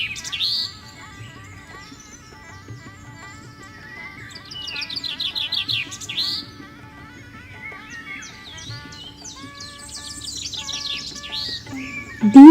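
Many wild birds chirp and sing at once in the wetlands of Bharatpur National Park, a tangle of overlapping tweets and calls near and far. The chorus swells in the middle and toward the end.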